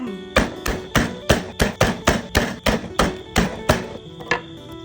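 Garlic gets crushed with repeated blows of a knife on a cutting board for Thai boiled chicken, a close, steady run of about a dozen solid thuds with faint music behind.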